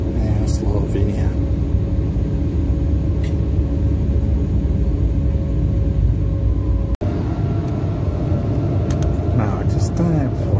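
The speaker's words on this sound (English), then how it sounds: "Just taxiing to our takeoff point in the middle of forest in Slovenia" An airliner taxis at Ljubljana Airport before takeoff, heard from inside as a loud, steady low rumble and engine drone that runs throughout, broken only by a brief dropout.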